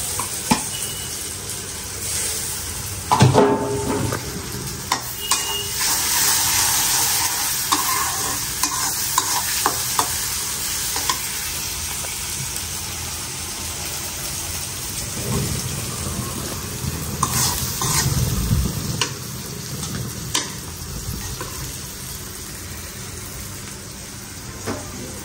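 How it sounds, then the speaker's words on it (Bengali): Fish frying in a pan gives a steady, close sizzle for the whole stretch, with stirring scrapes and a few sharper clinks and crackle bursts scattered through it. No one speaks. "এখানে মাছ দিচ্ছি ভাজার জন্য"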